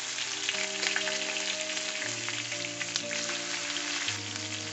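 Grated onion frying in ghee for Punjabi chana masala, giving a dense, steady sizzle and crackle throughout with no talking.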